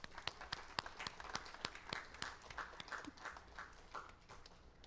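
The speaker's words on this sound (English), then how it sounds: "Let's give all of our graduates a round of applause" Scattered applause from a graduation commencement audience, with sharp individual claps over a steady crowd clatter that thins slightly toward the end.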